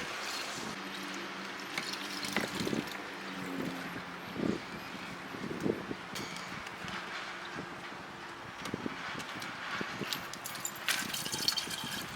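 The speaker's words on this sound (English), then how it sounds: "Slowly pour the new coolant into the radiator until it's full." Coolant is poured slowly into the radiator of a Dodge Charger, a soft continuous trickling and gurgling of liquid with faint sloshes, quiet and close.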